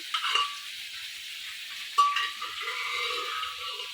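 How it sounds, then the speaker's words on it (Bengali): Pan sizzles steadily with a soft hiss while a spoon scrapes and stirs twice, stir-frying black chickpeas with spices close by. "চানাটা মশলার সাথে ভালো করে কষাতে হবে"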